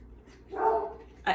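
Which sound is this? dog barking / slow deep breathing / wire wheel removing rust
dog barking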